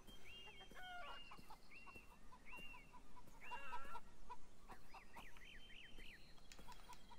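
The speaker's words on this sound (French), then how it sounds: "C'est des poupoules." Chickens in the video game Beyond Eyes cluck in short repeated calls, with a run of rising-falling squawks near the end, all fairly close and clear over a soft outdoor background.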